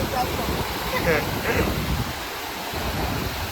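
Steady, loud rushing roar of river floodwater in the Ghed area, continuous throughout, with a voice faintly heard briefly underneath.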